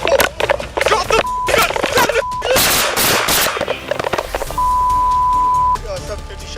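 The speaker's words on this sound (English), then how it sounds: "750 shots fired." A rapid burst of loud gunshots rings out during a police confrontation caught on a dashcam, with shouting voices, a vehicle and a steady electronic beep tone under the shots.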